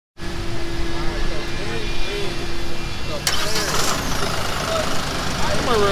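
A mower fitted with a tractor motor runs at an outdoor equipment demo, a loud, steady engine drone that continues throughout while people talk nearby.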